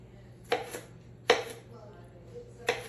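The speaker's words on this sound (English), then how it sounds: "you're going to take all the vegetables and roughly chop them" Knife roughly chopping vegetables for gazpacho on a cutting board, three distinct sharp thunks spaced apart over a quiet kitchen hum.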